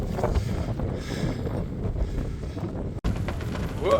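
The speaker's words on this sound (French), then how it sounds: "Voilà le vent." Strong wind buffets the microphone outdoors in a loud, continuous low rumble with rushing gusts, broken by a brief dropout before the blowing resumes.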